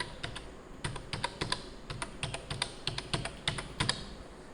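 Quick bursts of keystrokes on a computer keyboard as an Aadhaar card number is entered at a bank counter, sharp clicks in short uneven runs with brief pauses between them.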